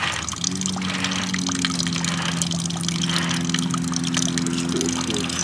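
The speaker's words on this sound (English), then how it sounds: "So you can see right there, I'm draining some of the block." Coolant drains in a steady stream from the engine block of a John Deere 1025R tractor, a continuous close trickling pour with a low steady hum beneath it, and no talk.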